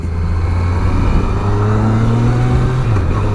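A 2017 Kawasaki Versys 1000 motorcycle hums at a steady mid-pitched drone under way, with loud wind rush and a slight change in engine note near the end, and no talk.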